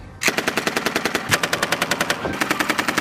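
An M240 machine gun fires two long bursts of rapid, evenly spaced shots, loud and close, with a tiny gap between the bursts.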